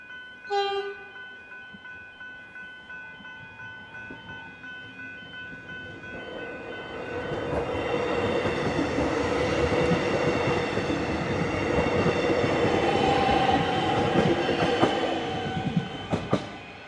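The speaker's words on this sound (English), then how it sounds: "As the train is just leaving the station now" A suburban train at Riversdale station sounds a tonal horn, then pulls away, its rumble and wheel clatter building into a steady roll along the tracks.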